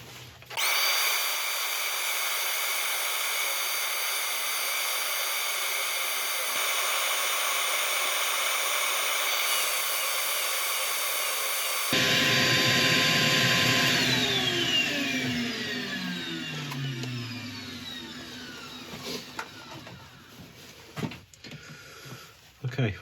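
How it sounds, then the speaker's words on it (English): Power sanding of an epoxy resin inlay on a woodturning lathe, a steady loud whirring hum that shifts partway through into a higher whine with falling tones, then slows and stops, with occasional background bumps. "I'm going to start sanding."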